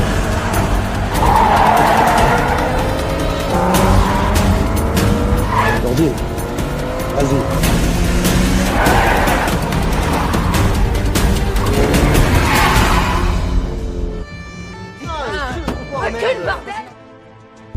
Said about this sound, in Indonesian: Mengetahui kalau mobil mereka sedang diikuti, Karim segera meminta bantuan temannya untuk menemukan jalur yang aman